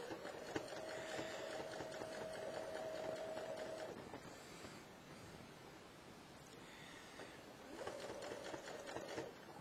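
Sewing machine hum with steady stitching bursts as a sleeve is flat-sewn to a fleece hoodie body, a sustained mechanical whine for several seconds, a pause, then stitching resumes near the end.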